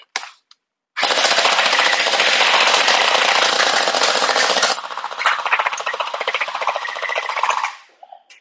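Two JIMI DIRECT mini MP5 top-loader gel ball blasters fire in long, loud, rapid bursts, a dense buzzing full-auto rattle that holds for several seconds and then continues at a slightly lighter, choppier rate before stopping.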